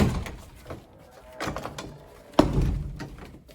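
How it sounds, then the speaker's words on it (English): Double wooden doors in a building are pushed open during an evacuation route walk-through, giving a few dull thuds and a sharper clack of the hardware over steady background noise. "And you open the double wood doors."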